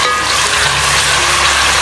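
Onions browning in a pan for chicken karahi, a steady loud sizzle and crackle of frying throughout, close and uninterrupted.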